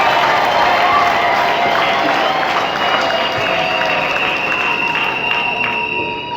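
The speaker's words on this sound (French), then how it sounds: "Je vous prie de l'applaudir très chaleureusement." A church audience applauds warmly at the dedication of a sanctuary to Saint Rita, producing a dense, steady wash of clapping that fills the room for several seconds.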